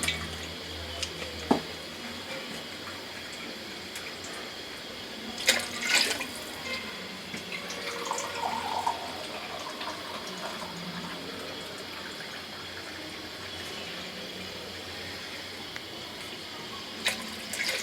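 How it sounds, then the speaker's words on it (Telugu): Water is poured into a pot of rice for a bachelor-style palav, giving a quiet, continuous trickling and splashing with a few clinks of the pot, faint and without talk. "ఇప్పుడు మనం మొత్తం 5 గ్లాసులు నీళ్ళు వేసుకున్నాం."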